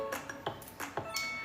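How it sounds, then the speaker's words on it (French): Soft electronic chime from a Thermomix TM7 food processor in a kitchen, a string of light, bright pings in a short irregular sequence, gentle and close, with no talk. "Petite sonnerie très douce."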